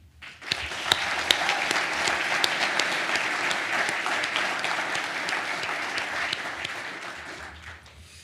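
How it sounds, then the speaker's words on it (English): Applause at a US Navy talent pipeline signing day ceremony honors standing educators, training providers and facilitators: a full, sustained crowd clapping with a few sharp close claps that builds quickly, holds and then tapers away. "please stand and a big round of applause"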